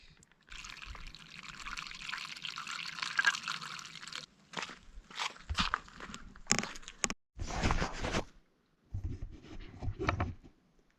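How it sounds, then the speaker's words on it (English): Water squeezed through a backpacking water filter while camping, a steady stream pouring and trickling for several seconds, then broken into short spurts and drips, close and clear. "fill it up with the water. It's here on the filter, pop open the top and squeeze it out"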